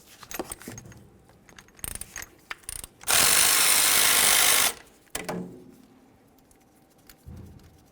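Ratchet working the 10mm slider bolts on a 2002-2005 Ford Explorer rear knuckle: scattered close metallic clicks and clinks, a loud steady burst of broadband noise for about a second and a half midway, then more intermittent clicking.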